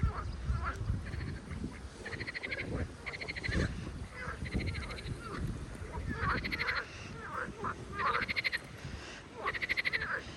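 Rhythmic frog croaks repeat in bursts across the clip, over a busy outdoor background with scattered noises, in a city park by the water.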